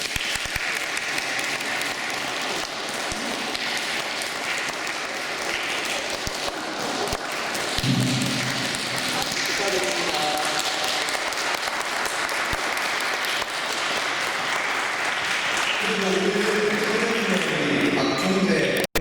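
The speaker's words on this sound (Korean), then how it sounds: "우리 박수로 다시 한번 칠순을 축하하는 의미로" A congregation at a Sunday church service applauds to celebrate a 70th birthday. The applause is dense and sustained, and voices and tones rise near the end.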